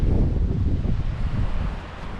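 Cold wind blows steadily beside a frozen river in snowy downtown Paris, Ontario, a continuous low, rumbling gust noise buffeting the microphone throughout without any speech.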